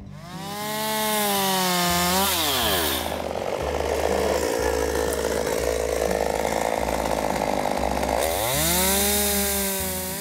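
A chainsaw cuts through Pinot Noir grapevines in a vineyard to prepare them for grafting, loud and close, its engine revving and bogging down as the chain bites into the wood, then easing off.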